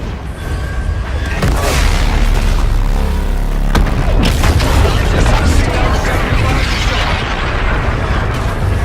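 Heavy ship cannon fire in Call of Duty: Infinite Warfare, loud booming blasts and sustained explosive rumble with mechanical clanks, one sharp report near the middle, in a dense battle mix with voices over it.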